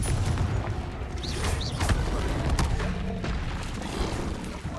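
In the Hogwarts Legacy video game, Confringo blasting spells go off in deep, rumbling booms. Several heavy explosive bursts with crackling debris build over a dense, loud bed of game noise.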